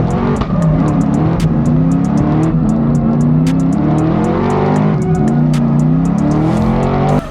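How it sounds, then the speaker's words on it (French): A BMW E30 drift car howls through a long, loud, sustained engine note with shifting pitch as it slides at high angle in a French drift championship battle, with no talk over it. "énormément d'angle, gros dive de la part de Jordan pour essayer d'aller coller la E30 d'Anthony Rocci"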